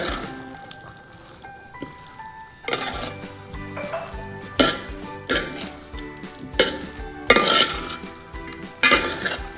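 Chicken curry is stirred in a pan with repeated scraping, clinking strokes about once a second, growing louder and more rhythmic over a soft steady sizzle.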